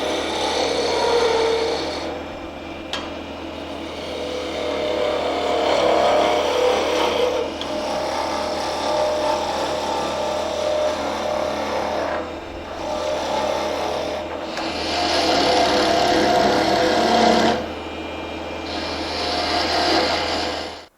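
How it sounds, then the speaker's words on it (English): Roughing gouge cutting a wooden tool handle spinning on a wood lathe, a steady close rasping scrape that swells and eases in repeated passes with brief pauses between cuts. "The tool I'm going to use right now is a roughing gouge just to get rid of some of the bulk of the material."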